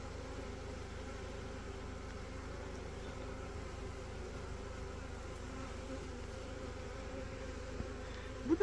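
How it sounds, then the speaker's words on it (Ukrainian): Honeybees fanning and buzzing at a hive housing a newly settled swarm, a steady, faint, continuous hum with no pauses throughout. "характерно, бджоли вентилюють"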